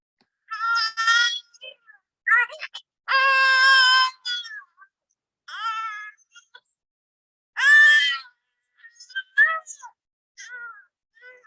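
A baby cries in a series of short, high, wavering wails and whimpers, with one long sustained cry near the middle and brief quiet gaps between bursts; no talking.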